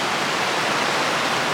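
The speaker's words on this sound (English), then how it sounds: "Here's the Baxter Creek crossing." Baxter Creek rushes across a Pacific Crest Trail crossing as a loud, steady wash of close flowing water, with no talking.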